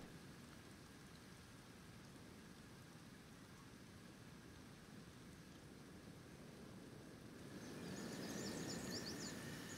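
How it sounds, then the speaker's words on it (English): Steady rain falls in the Kenshi video game, a soft even hiss that swells slightly louder near the end, with no voices. "Still raining. Day 4."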